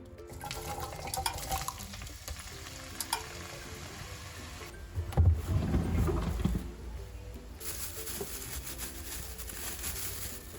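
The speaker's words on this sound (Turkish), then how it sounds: "Kalan patatesleri de kızartıyorum." Quiet, steady sizzling of potatoes frying in hot oil, with a brief louder burst of bubbling partway through.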